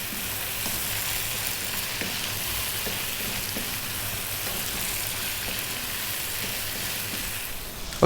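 Lamb and tomato frying in a pan for an Indian dry-fried mutton dish, giving a steady, even sizzle and crackle close by that runs unbroken throughout, with no talking.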